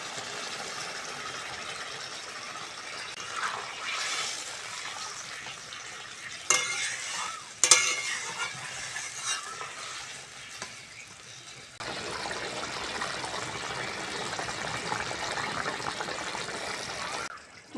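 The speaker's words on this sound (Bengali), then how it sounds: "আবারও অল্প জল দেব।" A little water is poured into a hot pan of cooking potatoes for a Bengali doi potol curry. The steady frying sizzle gives way to a sharp hissing burst and bubbling, followed by loud continuous simmering.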